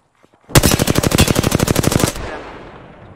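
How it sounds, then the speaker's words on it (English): Rapid automatic gunfire in the video game Apex Legends: one loud, close burst of about twenty evenly spaced shots lasting around a second and a half, then a fading echoing tail. "I'm taking fire."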